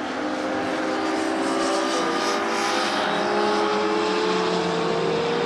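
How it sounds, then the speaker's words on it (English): A motorbike roars past on a road, its loud engine note sweeping steadily with a falling pitch as it goes by, heard close and alone for several seconds. "That was a bike that followed before."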